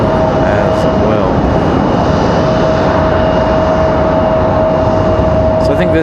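A JetBlue Airbus A220 jet rolls for takeoff at Raleigh-Durham airport, a loud steady engine roar with a sustained whine running throughout.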